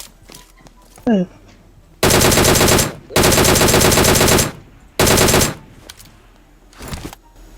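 Automatic gunfire in the mobile battle-royale game PUBG Mobile rips out in three loud, sustained bursts, separated by short gaps, with brief voice sounds before the shooting starts.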